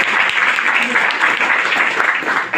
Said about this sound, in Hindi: एक बात ताली हो जाए।